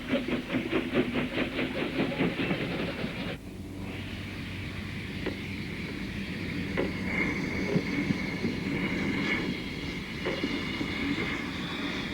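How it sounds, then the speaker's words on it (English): Steam locomotives run round their train at a heritage railway, with rhythmic chuffing over the first few seconds, then a steady rumble, hissing steam and occasional metallic clanks. "The locos soon run round their train and couple up for the return journey."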